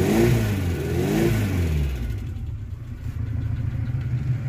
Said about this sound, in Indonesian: bagi yang pengen denger suara mesinnya, ini seperti ini.